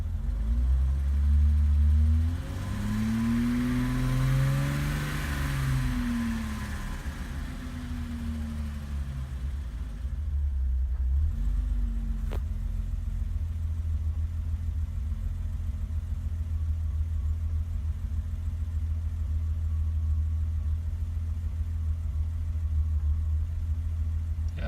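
A 1988 BMW 325 sedan idles about five minutes after a cold start, a steady low rumble running throughout with a brief dip near the middle and no talk.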